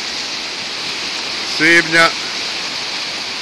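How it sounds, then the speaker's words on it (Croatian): The flooded Lašva River rushes past Kaonik during the 2014 floods, a loud, steady broadband roar that runs throughout, briefly overlaid by a single spoken word in the middle. "Voda, to jest rijeka Lašva, je još uvijek velika."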